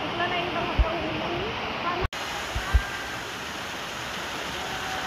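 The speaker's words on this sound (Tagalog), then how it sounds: "Nandito na kami sa very long, long waterfalls ng Wong Long Hang." Long waterfalls at Yellow Dragon stream rush in a steady, broad roar that fills the whole stretch, with a brief pause midway and a short spoken exclamation over it.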